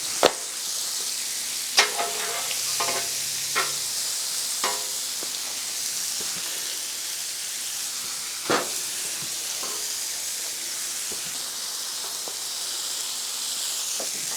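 Onions and butter sizzle steadily on a hot flat-top griddle, a continuous frying hiss broken by a few sharp spatula taps and scrapes, with no talking.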